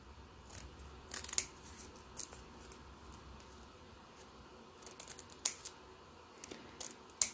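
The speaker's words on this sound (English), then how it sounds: "just cut out the box first and along the top, along the bottom, and then just cut into your letter" Scissors cutting a letter shape out of paper for a Christmas sack, faint close snips and clicks in scattered bursts with quiet gaps between.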